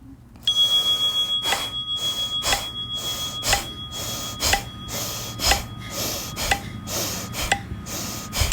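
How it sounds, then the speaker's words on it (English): A bell rings to open a breathing round in a guided breathwork session, followed by a long run of rhythmic, forceful breaths repeating about once a second, steady and close. "Beginning at the sign of the bell."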